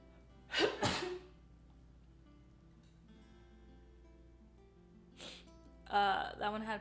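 Two sharp sneezes burst out close together near the start, then quiet room hum follows before a later short breathy burst and a person speaking.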